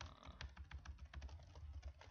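Rapid, quiet keystrokes clatter on a computer keyboard, a quick uneven run of about twenty close-up taps over a faint low hum.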